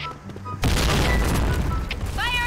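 A grenade explosion in a first-person shooter game booms loudly and then carries on as dense, sustained rumbling with crackling bursts, with voices talking in the background.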